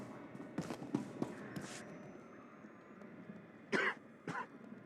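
Faint coughs in the Star Wars: The Old Republic game world, a cluster of soft coughs early on and then two louder coughs near the end, over low room ambience.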